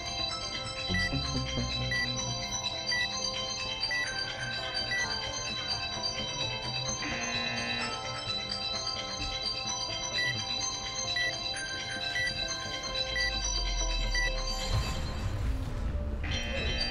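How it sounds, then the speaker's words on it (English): A ringtone-style phone melody plays on and on, steady and fairly loud with overlapping musical tones, no one speaking. "that really needs to shut up. That phone is annoying"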